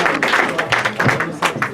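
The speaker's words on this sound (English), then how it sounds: "A round of applause for Shane as he comes forward." A dinner audience claps in a conference hall, a brief burst of many hands applauding together, moderately loud and close with a dense, uneven patter.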